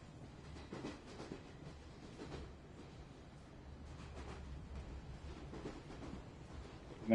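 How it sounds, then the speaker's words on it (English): A train rumbles past in the video game The Star Named Eos, a steady low clattering roll at moderate distance that stays quiet throughout, with no voices. "Also, of course, you can already hear the train at this point."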